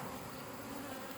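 Honey bees buzz around a hive in a village apiary, a dense, close, continuous hum of many wings droning together without pause.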